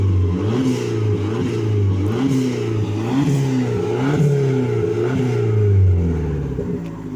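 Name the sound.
Abarth Punto car engine revving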